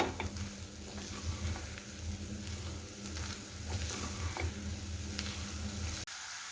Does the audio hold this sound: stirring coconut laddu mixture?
yes